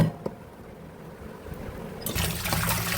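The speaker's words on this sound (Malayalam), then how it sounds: "ഇനി ഇതൊന്ന് നന്നായി കഴുകിയെടുക്കാം" Running water pours over chicken feet being washed, a soft steady trickle that swells into a louder, fuller rush after about two seconds.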